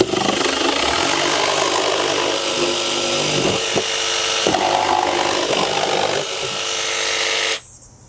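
A Milwaukee M12 Fuel cordless jigsaw saws through wood, its loud buzzing blade running steadily for about seven seconds with slight changes in pitch, then cutting off abruptly at the end.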